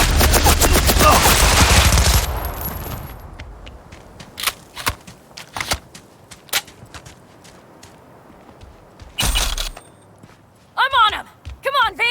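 Heavy game gunfire in a Cyberpunk 2077 firefight: a loud opening burst of automatic fire, then scattered single shots and short volleys. Shouted voices are heard between the shots.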